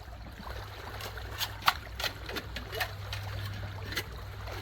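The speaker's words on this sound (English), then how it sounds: "This stream would be good to walk through at night" A crystal-clear neighborhood creek running over stones, with a soft steady trickle and small splashing bursts close by, no talking.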